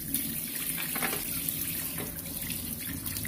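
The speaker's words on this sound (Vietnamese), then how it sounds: "mình sẽ rửa lần lượt và rửa thật sạch hết những cái vỏ hàu này đi ở cái chỗ này" Oysters being scrubbed clean one by one under a running kitchen tap, a steady close stream of water splashing over the shells into a sink for the full few seconds, with no talk.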